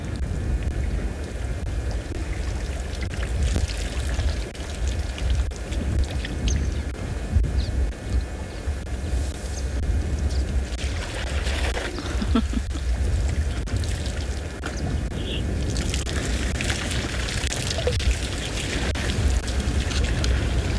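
Elephants splashing in a waterhole dam on an afternoon safari in South Africa, a continuous wet churning and pouring of water with sloshing surges, steady and fairly close throughout.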